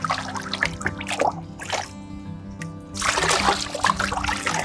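Water trickles and splashes out of freshly washed coconut coir being scooped to drain, a steady wet dribble with a few louder splattery bursts, close up, over a low background hum.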